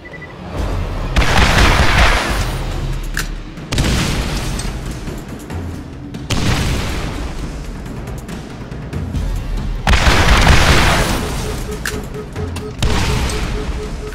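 Turret fire and explosions in the video game Borderlands, loud bursts of firing and booming blasts coming in repeated waves a few seconds apart, with brief quieter gaps between them.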